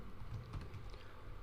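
Close, steady clatter of keys on a computer keyboard as someone types a short line of Python code, a quick continuous run of soft taps with no talking.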